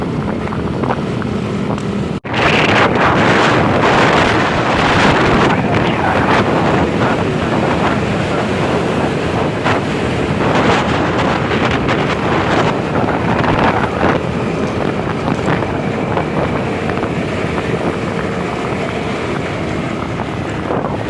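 On a motorbike ride through South Jakarta, heavy wind buffets the microphone in a loud, continuous roar with engine rumble beneath, broken by a sharp cut early on.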